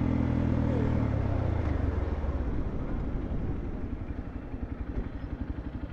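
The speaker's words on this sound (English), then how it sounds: "Like people racing motorbikes and stuff?" Motorbike engines roar near a racetrack in Vietnam, a loud steady drone that slowly fades and settles into a pulsing idle-like throb toward the end, with faint voices in the background.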